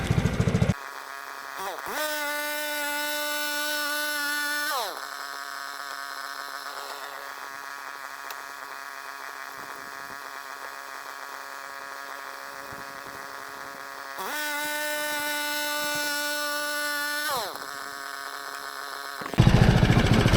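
A Frontier OS23 sawmill cutting floorboards gives off a loud, close engine drone in two long bursts, separated by a quieter low-running stretch, with clunks at the start and end.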